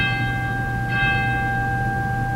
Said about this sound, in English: We also have cathedral chimes.